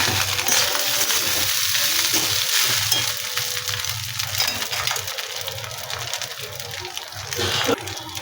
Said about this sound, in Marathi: यामध्ये साधारण मी अजून एक चमचा तूप टाकते व्यवस्थित छान असं आपण परतून घेऊया